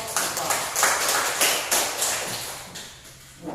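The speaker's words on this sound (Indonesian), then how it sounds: "beri tepuk tangan untuk kelompok" A classroom of students claps for a group, a run of brisk overlapping claps that swell and fade in waves before a final short burst near the end.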